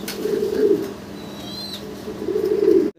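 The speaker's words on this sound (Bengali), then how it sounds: "দর্শক, ভিডിও স্ক্রিনে আপনারা দেখতে পাচ্ছেন এক জোড়া মডার্না কবুতর।" A pair of Modena pigeons coo in two low, throaty bursts at the start and end, close and fairly loud, with a brief faint chirp between.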